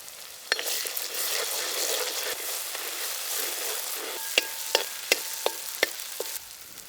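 Ginger garlic paste sautés in a pan for a large batch of country chicken chinthamani, a continuous loud sizzle with a run of sharp ladle taps against the pan near the end, no speech.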